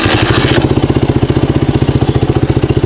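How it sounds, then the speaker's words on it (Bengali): A modified Wuyang 125cc motorcycle engine, heard close and loud: a short burst of noise as it starts, then a steady, rapid, even idle thump that continues on its own. "তো আমরা এখন বাইকটাকে স্টার্ট করব"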